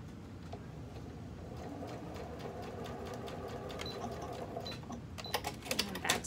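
Sewing machine stitching elastic onto lingerie fabric: a steady fast mechanical whir with rapid needle clatter, fairly faint, turning into sharper clicks and knocks near the end, with no talking.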